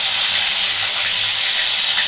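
Pointed gourds fry in oil in a pan for a vegetarian dorma, giving a loud, steady, close sizzling hiss that holds evenly without pause.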